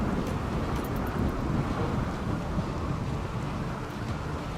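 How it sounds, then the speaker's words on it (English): Steady rain and rumbling thunder from a thunderstorm in the video game RimWorld, a dense, continuous wash of rainfall with low rolling thunder, fairly loud and unbroken, with no talk. "No, it's a rainy thunderstorm."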